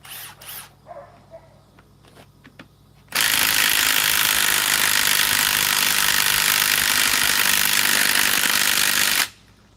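A fully charged 3/8-inch Gen 2 cordless ratchet starts after a few faint clicks and then whirs loudly and steadily for about six seconds before cutting off abruptly.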